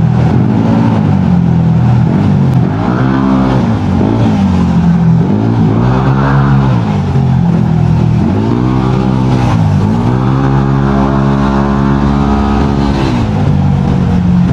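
A Yamaha Aerox V1 scooter engine runs loud and close throughout a ride in traffic, its pitch repeatedly rising and falling as the throttle opens and eases off, with steady wind rumble and no talking.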